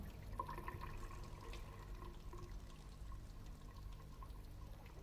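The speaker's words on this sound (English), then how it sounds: "I must have a drink of water." Water poured into a glass as a radio-drama effect, a steady close liquid trickle running for several seconds with no voices over it.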